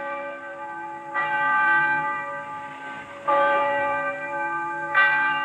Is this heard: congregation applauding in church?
no